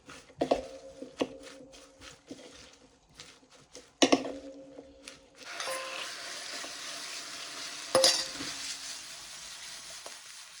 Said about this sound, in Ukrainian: Обсмажуємо м'яско.